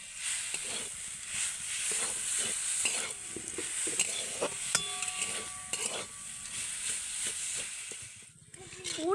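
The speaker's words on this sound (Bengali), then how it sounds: "গুড়টা দিয়ে দেব গুড় দিয়ে ভালো করে আমি নাড়তে থাকবো" Date-palm jaggery filling stirred in a pan for patishapta, a steady sizzling hiss with repeated rhythmic scrapes of the spoon against the pan, close and fairly loud, briefly quieting near the end.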